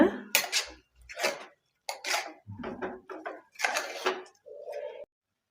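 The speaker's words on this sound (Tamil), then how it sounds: "சேர்த்து நல்லா கிண்டி விட்டுக்கோங்க" A spoon scrapes and clinks around inside a cooking pot of green gram curry in irregular bursts, close and moderately loud.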